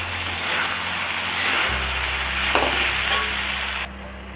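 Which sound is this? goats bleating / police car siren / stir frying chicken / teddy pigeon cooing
stir frying chicken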